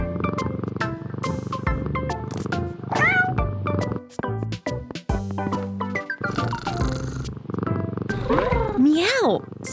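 Cartoonish cat meows and playful chirps pop up over busy, bouncy music in the Lingokids children's learning game, with bright sliding squeaks toward the end.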